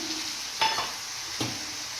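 Chopped tomatoes go into a frying pan of chicken curry, with a constant low sizzle and two short bursts of scraping as they are stirred in.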